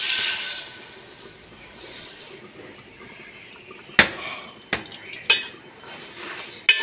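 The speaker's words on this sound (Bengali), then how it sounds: "চালটাকে নেড়ে চেড়ে ভালো করে একটু ভেজে নেব।" Rice stirred in a pan with fried whole spices (cloves, cardamom, cinnamon, bay leaf, mace) for basanti pulao: a soft sizzle first, then scattered scrapes and clinks of a spoon against the pan.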